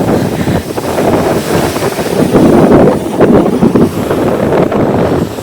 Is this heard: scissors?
no